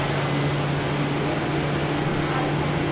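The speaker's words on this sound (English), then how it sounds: "Say goodbye to the Dreamliner. It's QF 119 heading out to Auckland." A Boeing 787 Dreamliner jet departing Brisbane Airport produces a steady, broad engine roar with a low hum, continuous and fairly loud throughout, with no voices.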